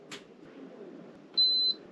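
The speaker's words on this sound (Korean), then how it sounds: "삐 소리가 나면서 숫자가 88이라고 들어왔다 없어지죠?" A camper van air conditioner control panel gives a single short, clean electronic beep, preceded by a faint click, in a quiet interior.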